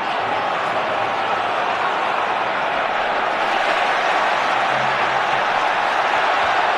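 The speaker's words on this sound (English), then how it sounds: "the crowd have really raised the volume at the start of the second half" Big football crowd roaring steadily through an England vs Croatia Euro 2008 qualifier at the start of the second half, a dense, loud, continuous wall of noise with no break.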